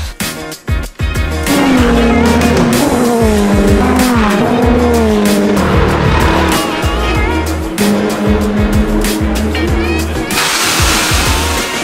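A GT race car lapping the Jerez circuit, its loud engine rising and falling through gear changes, with tire squeal and skidding on corners, heard close and continuous for the whole stretch.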